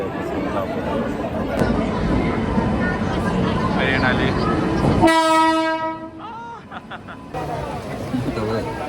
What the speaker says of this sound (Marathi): चाललो आम्ही स्टेशन वरती आणि ट्रेन पण आली आमची